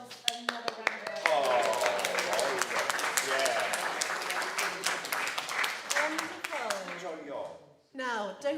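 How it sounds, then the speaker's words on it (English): Members of a community choir clap for themselves during a live-streamed session, a dense spell of applause with scattered sharp claps, voices chattering and exclaiming over it, fading out near the end before speech resumes. "Shall we give ourselves another round of applause?"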